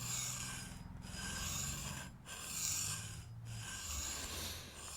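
A long bent woodcarving gouge is rolled back and forth while being sharpened, making a continuous close rasping rub with a few short pauses between strokes. It is fairly faint, with no talk.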